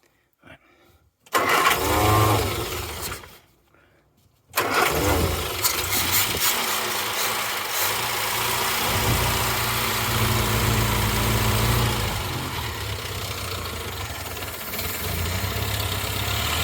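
A Morris Minor ratrod engine cranks, catches, stumbles off, then fires again and settles into a loud, rough, lumpy idle nearby that runs on steadily.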